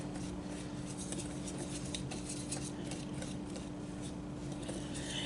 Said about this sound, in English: Once again, whisk it till you get all the lumps out.